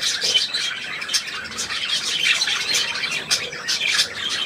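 An indoor pet budgerigar gives a run of bright, scratchy squawks and chirps in quick irregular bursts, close and fairly loud, with no talking over it.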